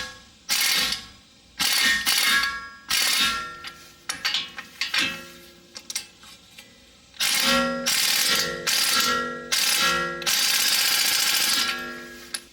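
Ratchet or wrench clicking in repeated bursts while tightening the tie rod end nut on a 2007 Toyota Highlander Hybrid, close and fairly loud, with short pauses between strokes and no talk.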